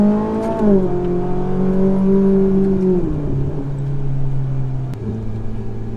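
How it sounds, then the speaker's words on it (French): A Ferrari 458 with a Liberty Walk kit and dual-clutch gearbox drives close by, its steady engine hum stepping down smoothly in pitch at each of a few gear changes without a jolt. "À chaque petite pression, elle passe le rapport, sans à-coup, c'est normal."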